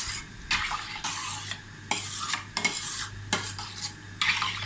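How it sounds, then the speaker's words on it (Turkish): A spoon swirls through Black Sea corn soup in a pot, making steady scraping and sloshing strokes in repeated bursts, close and clear, with no talking. "Şöyle güzelce şu şekilde karıştırdım."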